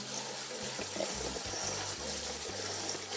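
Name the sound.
rinsing cooked nopales cactus with cold water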